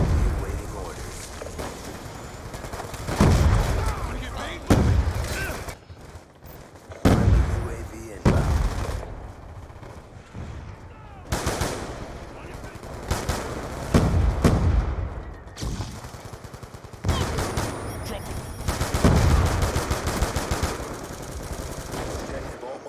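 Gunfire in the video game Black Ops 2 aimed at a mannequin, with repeated loud bursts and single shots across the span, mixed with game effects and a person talking.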